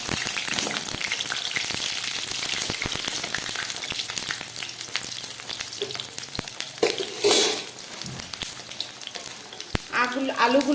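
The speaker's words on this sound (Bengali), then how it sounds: "এই তেলের মধ্যে একদম প্রথমে আমি আলুগুলোকে ভেজে নেব।" Potatoes frying in mustard oil in a wok, a close, steady sizzle broken by sharp clicks of a spatula stirring and scraping, with a louder crackling surge near the end.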